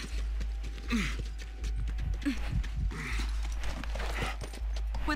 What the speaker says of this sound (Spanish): Solo busca el caballo.